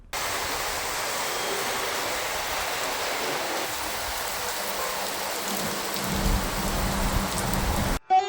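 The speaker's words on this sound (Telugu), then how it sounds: "మెరుపులతో కూడిన భారీ వర్షం కురుస్తోంది." Heavy rain with lightning in Nellore pours steadily in a dense, continuous hiss, with a deeper rumble joining toward the end before it cuts off abruptly.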